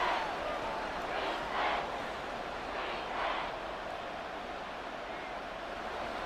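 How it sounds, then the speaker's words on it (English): Stadium crowd in Madden 24 football, a broad steady roar with a couple of swelling cheers rising and fading, moderately loud and unbroken. "the crowd getting into it as we come up on a big 3rd down"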